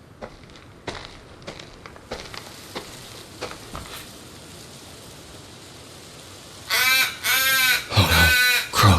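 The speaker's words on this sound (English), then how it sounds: "Oh no, crows." Crows in the horror video game Once Alive give a burst of four loud, harsh caws close together near the end, after a long stretch of quiet ambience broken by scattered faint ticks.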